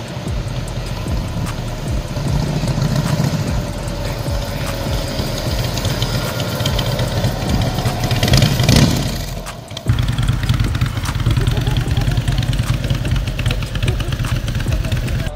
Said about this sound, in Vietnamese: Harley Davidson Dyna độ phong cách Shimano với khả năng ống xả có thể phun lửa được hai bên luôn nha.